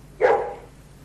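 A single dog bark, one sharp close yelp that decays quickly and stands alone against a quiet background.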